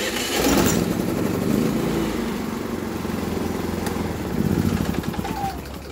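Predator 3500 portable generator engine, still cold with the choke on, starting by push button and running steadily at a loud, close, even roar with a slight rise near the end.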